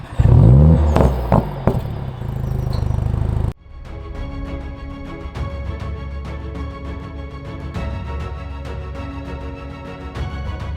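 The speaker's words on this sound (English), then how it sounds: "Put your foot down on the brake and press the start button again, and your car will now start up in Sport Plus" A Mercedes-AMG engine in Sport Plus mode fires up with a loud burst and revving bark, then drops to a steady rumbling idle with rhythmic ticking.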